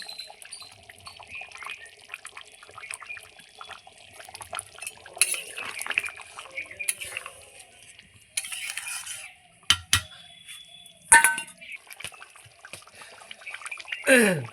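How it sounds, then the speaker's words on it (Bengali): Curry with duck eggs and capsicum being tipped from a pan into a dish, with clinks of metal utensils, scraping and wet slopping sounds coming in uneven bursts, close by. "দেখুন আমি এখন তরকারি ঢেলে নিচ্ছি"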